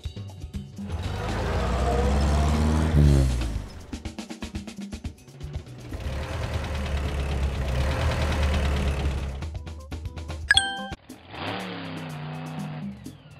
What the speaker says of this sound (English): Taxi.